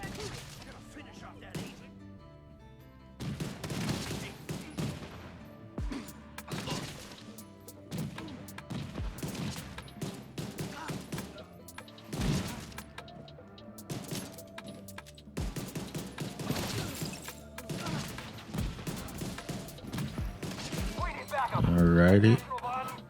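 Rapid bursts of video game gunfire crackle almost nonstop, with heavy thuds and a loud impact near the end, over a busy game soundtrack.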